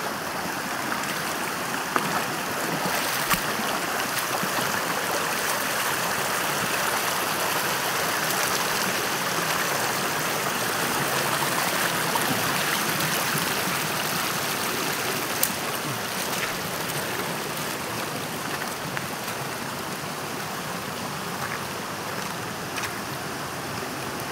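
A small river runs steadily near Naga Beach, a broad, even wash of flowing water with no pauses. It stays close and moderately loud throughout, and no one speaks.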